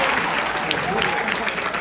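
Brief burst of audience applause at a political gathering, a dense wash of clapping from a crowd, fairly loud and continuous, with voices mixed faintly underneath.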